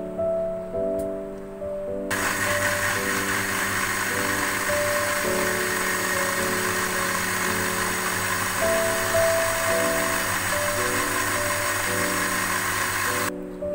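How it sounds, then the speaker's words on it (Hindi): A kitchen blender whirs steadily as it purees tamarind paste for a tamarind and plum sharbat, its motor sound rising suddenly after a short quiet lead-in and then running continuously and loudly before cutting off near the end. "इमली का पेस्ट डालेंगे इसके अंदर और इसको अच्छी तरह से ब्लेंड कर लेंगे।"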